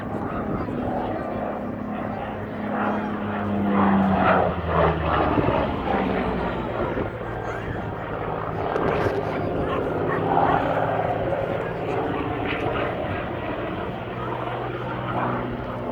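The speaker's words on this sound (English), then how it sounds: "Running in right in front of you now, the mighty and outstanding Spitfire." A Spitfire fighter aircraft flies past at an air show, its piston engine a steady loud drone swelling and easing, with a dog barking and an announcer talking over it.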